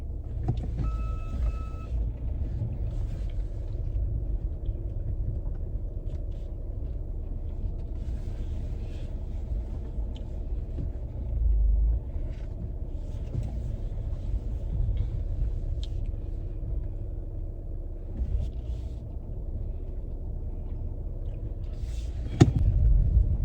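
A car is driven slowly out of a crowded parking lot, a steady low engine rumble and cabin hum throughout, with faint knocks and brief movement noises and a sharp click near the end.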